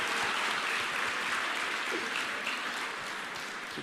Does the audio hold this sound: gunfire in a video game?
no